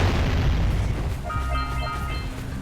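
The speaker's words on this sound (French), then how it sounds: "le mec, il spamme les canons," Deep booming blasts of cannons firing in the video game Jak & Daxter rumble one after another, heavy and continuous at first, then thinning out with lighter tonal effects.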